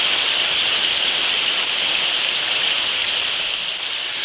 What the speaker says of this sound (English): The rain was coming down like it was trying to wash us away